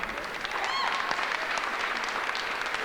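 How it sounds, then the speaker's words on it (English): Audience at the Secret Knock 2022 event gives a round of applause for Greg and the team, a steady, moderately distant patter of many hands clapping throughout with no voices on top. "Let's give it a round of applause for Greg and the team for Secret Knock."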